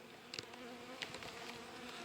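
Live honey bees buzz inside an opened winter hive, a faint, steady hum with a few brief louder knocks and scrapes as a flat paint-stir stick drags through.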